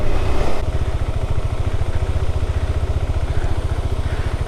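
A KTM 390 Adventure motorcycle rumbles loudly up close, its single-cylinder engine pulsing in a rapid, even throb while riding, with wind noise over it.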